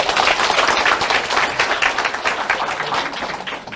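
An audience at a business event claps and applauds steadily and loudly throughout, a dense continuous wash of hand claps with no voice over it.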